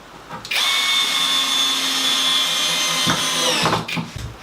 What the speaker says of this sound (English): I'm screwing them on with 75mm screws, 10 gauge.